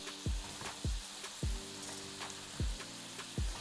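Ground beef fries in a pan with minced garlic and onion, seasoned with salt and pepper, giving a steady close sizzle broken by five sharp stirring scrapes at irregular intervals.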